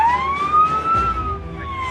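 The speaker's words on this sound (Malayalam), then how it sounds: "ഈ സൈറൻ സൂചിപ്പിക്കുന്നത് ആംബുലൻസ് രോഗിയുടെ അടുത്തേക്ക് പോവുകയാണ് എന്നതാണ്" An ambulance siren wails loud and close, one long tone gliding up and then slowly back down, with no talk over it.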